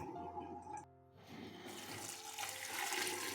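About 2.5 liters of water pour into a soup pot for a cheese and leek soup, making a steady rushing splash with a brief pause before the flow resumes and grows fuller.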